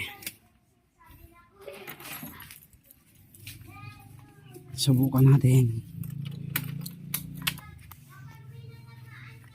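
Keys jangle at the ignition of a Yamaha Mio i 125 motorcycle, a few light metallic rattles close by, while someone talks over them.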